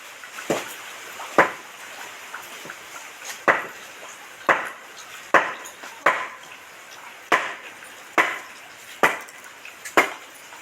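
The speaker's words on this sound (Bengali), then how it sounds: "দাদা তো ওদিকে রোদ্দুর উঠতেই ফ্যাপসা কাটতে আরম্ভ করে দিয়েছে" Fapsa fish being cut outdoors: a steady series of about a dozen sharp chopping knocks spaced roughly a second apart, close and fairly loud, with a faint background hiss and no talk.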